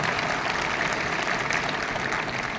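Loud, sustained applause from an audience at a motivational event, a thick continuous roar of many hands clapping at close range, with no break.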